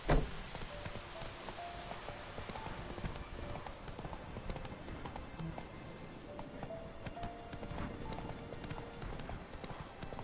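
A horse galloping in the Witcher 3 video game, rapid rhythmic hoofbeats clip-clopping steadily and close throughout, with a brief whinny-like tone and faint background ambience.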